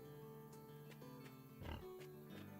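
Pigs oink in the Farm Together video game, giving a few short grunts over a steady tonal background. One thicker snort lands in the middle, and no voices are heard.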